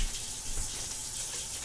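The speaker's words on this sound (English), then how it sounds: "we'll turn the water on to get it warm" Water runs steadily from a kitchen tap in a home kitchen during apple cake baking, a continuous close hiss and splash with no breaks.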